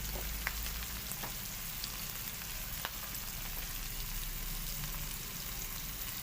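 Sliced ridge gourd (turai) for a dhaba-style masala sabzi sautés gently in a pan, giving a steady, even sizzle with faint crackles throughout and no voices.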